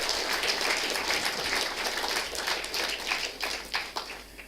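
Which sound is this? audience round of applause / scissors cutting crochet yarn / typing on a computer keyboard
audience round of applause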